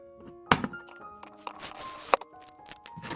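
Plastic packaging of a Sonic Ultimate bundle pack being pulled and torn open, with crinkling rustles and two sharp tearing snaps, close and fairly loud, over about three seconds.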